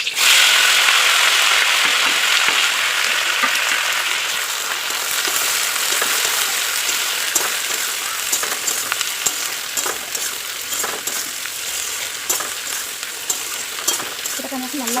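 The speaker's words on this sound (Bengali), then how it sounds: "গরম তেলের মধ্যে আমি এখন পেঁয়াজ, টমেটো আর ক্যাপসিকামটা দিয়ে দেবো।" Onion, tomato and capsicum frying in hot oil for chili chicken, a loud steady sizzle that settles into a continuous crackle with occasional scrapes and taps of a stirring utensil.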